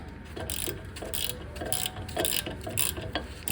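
Ratchet wrench tightening the wheel cylinder bolts during a rear drum brake job on a 1997 Jeep Cherokee XJ, giving repeated short clicking bursts in a steady back-and-forth rhythm, close up with no talking.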